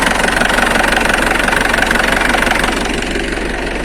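An MTZ-82.1 tractor's diesel engine running near the microphone, a steady loud rumbling idle with a rapid knocking pulse and vibration, easing slightly toward the end.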